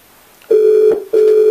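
Telephone dialing tones sound as two loud, steady beeps, each about half a second long, separated by a short gap.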